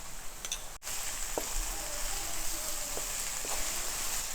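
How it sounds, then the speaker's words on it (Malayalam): Onions fry with salt in a pan for a pressure-cooker chicken biryani, giving a steady moderate sizzle with a sharp click near the start and a few light ticks of utensil contact. "സവാള വാടാൻ ഉപ്പിടുന്നുണ്ട് കേട്ടോ."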